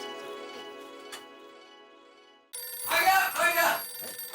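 A telephone rings with a steady electronic tone, fading over a couple of seconds before cutting off, then people start talking in a busy room.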